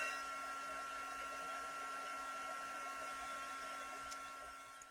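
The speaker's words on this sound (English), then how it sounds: "take the heating tool and see if that definitely works" A heating tool blows hot air in a steady, even whoosh with a faint constant whine, running nonstop at moderate level without talk.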